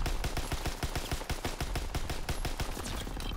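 Light machine gun fire in the multiplayer game Call of Duty: WW2, rapid sustained bursts of sharp shots in a steady, fast rhythm, close and loud throughout.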